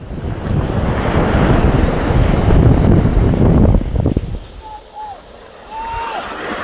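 Sea waves and wind on the Belgian coast roar steadily at close range, gusting strongly against the microphone before easing off, with a voice talking faintly over it.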